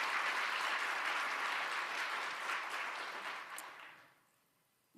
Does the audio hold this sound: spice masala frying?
no